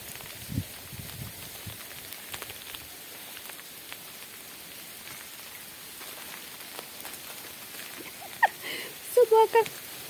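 Frozen rain falls as ice pellets in a faint, steady pattering hiss. Someone speaks briefly near the end.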